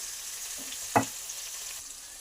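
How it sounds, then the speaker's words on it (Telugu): Onion, green chilli and garlic tempering frying in a pan, a soft steady sizzle with one brief louder stir or clatter near the middle, close and alone. "ఉల్లిపాయ, పచ్చిమిర్చి, వెల్లుల్లిపాయ పోపు వేసి బాగా మగ్గనివ్వాలి."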